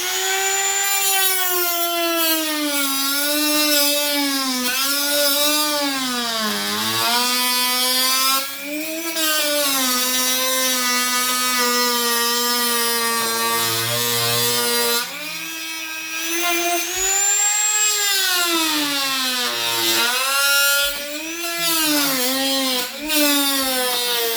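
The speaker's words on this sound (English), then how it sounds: "we're using a diamond head Dremel bit to cut" A Dremel rotary tool fitted with a diamond-head bit cuts through wood for an 18-inch wooden doll house, giving a steady high-pitched whine that rises and dips in pitch as the load changes, loud and continuous with no talking.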